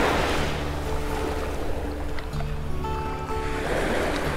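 Ocean waves wash in at the south end of Vanderbilt Beach in North Naples, Florida, a broad, steady surf hiss with soft rolling swells and a little wind, with no voices.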